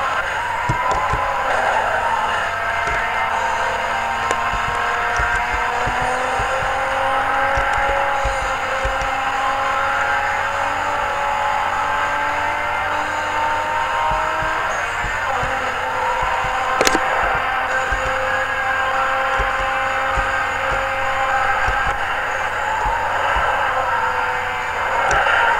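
Engines race in the video game Need for Speed Most Wanted, with a sustained loud revving drone that rises and falls through gear shifts, plus a sharp impact thud partway through.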